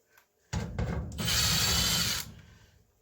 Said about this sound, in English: we'll buzz these screws out